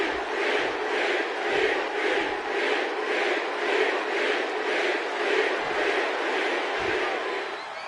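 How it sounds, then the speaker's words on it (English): An arena crowd in the wrestling game WWE 2K25 roars and chants in a steady rhythmic swell, a dense wash of cheering voices pulsing about once per second throughout. "The crowd is on their feet for Jey Uso"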